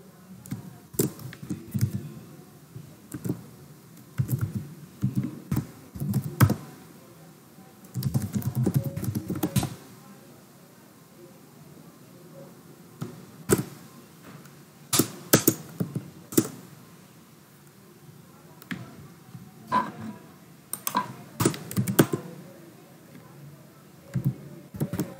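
Code being typed on a computer keyboard in irregular bursts of close, crisp key clicks separated by short pauses, with faint low background noise underneath.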